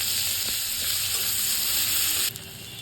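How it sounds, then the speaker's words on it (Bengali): Dried red chilli, nigella seeds and onion hit hot oil in a kitchen pan, giving a loud, even sizzle with a few stirring knocks before the frying drops slightly quieter at the end; no voices. "এবার ওই তেলের মধ্যে শুকনো লঙ্কা, কালা জিরা ফোড়নে দিয়ে দিলাম, আর পেঁয়াজটা দিয়ে দিলাম।"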